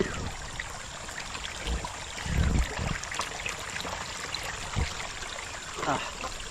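Spring water flows and trickles at a riverside spring in a continuous close babble, broken by a few low splashes and thumps.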